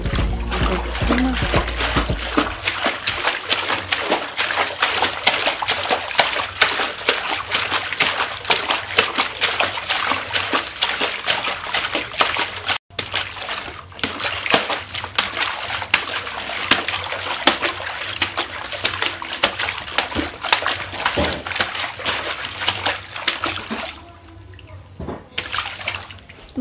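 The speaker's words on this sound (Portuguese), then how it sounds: "Vou tomar um banhozinho aqui na banheira" A young boy in a backyard bathtub splashes and sloshes the water continuously, close and loud, with bursts of trickling and slapping, while voices speak over it before the splashing fades near the end.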